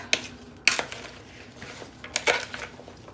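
Spoon scraping and clinking against a bowl while mock apple crisp mixture is stirred, with a few sharp nearby clacks and lighter rattles.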